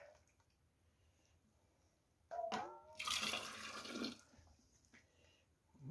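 Liquid from homemade apple compote is ladled into a jar through a large funnel. After a quiet start comes a close splash and a pouring gush lasting about two seconds, followed by a few faint drips.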